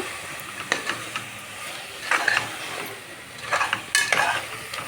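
Eggs and palak spinach fry in a pan while a spoon stirs them, sharp scraping strokes coming in short bursts over a soft, steady sizzle heard up close.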